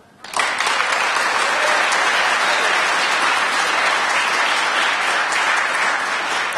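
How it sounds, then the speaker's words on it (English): Audience applause at a school initiative announcement with the mayor, a full, even wash of clapping that starts suddenly and sustains at a steady loud level throughout. "Give the new Ballou a big round of applause"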